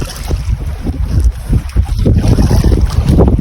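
Strong northeast monsoon wind at sea aboard a fishing boat, a loud continuous roar of wind buffeting the microphone with low rumbling gusts and splashing water throughout.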